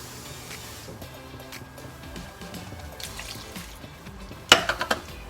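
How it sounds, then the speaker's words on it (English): A cup of water is poured into a pan of mushroom stroganoff, a steady close pour and trickle with low bubbling underneath, ending in a few sharp splashes and spatters near the end. "I'm going to go ahead and add another cup of water"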